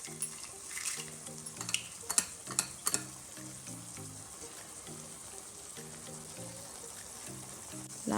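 Tempering crackling and sizzling in hot oil for Mangalore-style chicken urval, a steady close frying hiss with sharp pops and spatters, plus a few clinks of a spoon against the pan.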